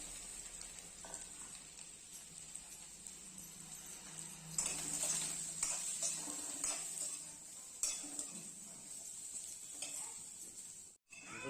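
Potatoes and jackfruit seeds fry in mustard oil with a continuous soft sizzle, broken by scraping and clinking as a utensil stirs the pan, louder in the middle stretch.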